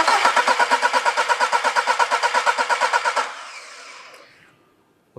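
An engine on a test rig cranks on its starter in a fast, even rhythm of pulses for about three seconds without catching, then the sound drops away into a fading whir.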